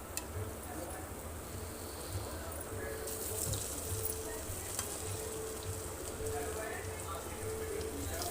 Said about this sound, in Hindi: तो इसलिए मीडियम हॉट ऑयल में तल रहे हैं